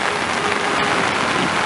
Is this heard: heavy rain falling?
yes